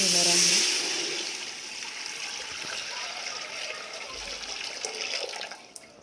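Measured water from a one-litre pot pours into a cooking pot with oil in it, making a steady splash that fades into a softer trickle. Faint talk sits underneath the pour.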